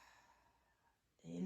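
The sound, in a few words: exhaling with a HA sound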